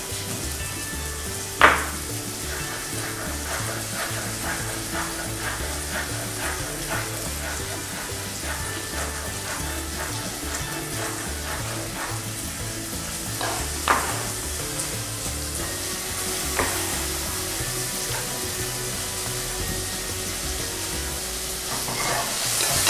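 Three kinds of peppers fry in a pan with a steady, close sizzle, broken by a few sharp clanks of a utensil, and faint talk now and then.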